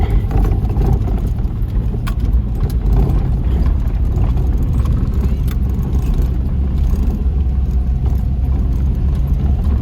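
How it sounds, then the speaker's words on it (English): Car engine, from a Saab 900 or Subaru Brat farm car, running loud and close as it drives around a track, a steady rumbling drone with no talking. "we might just take it for a bit of a run around the track and see what we get out of it"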